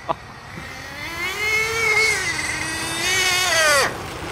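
A small high-pitched nitro RC car engine revs up and down, whining loudly and close, then the pitch rises sharply and cuts off as the fuel runs out.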